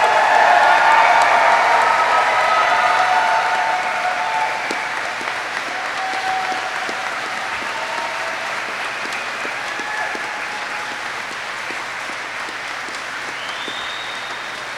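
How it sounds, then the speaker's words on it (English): A large graduation crowd applauds new Army aviators at a flight school ceremony, sustained dense clapping that starts loud and gradually tapers over about fifteen seconds. "Please join me in a round of applause for the Army's newest aviation warfighters."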